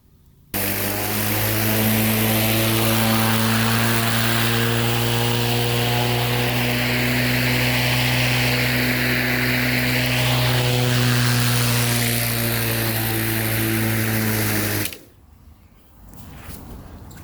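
An electric Craftsman lawn mower runs with a loud, steady motor hum for about fourteen seconds as it cuts grass, then cuts off abruptly, leaving quiet background noise.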